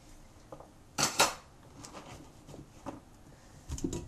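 Diced radishes are stirred with salt in a bowl, giving scattered clinks and scrapes of a utensil against the dish, with a couple of louder knocks early on and quieter taps after.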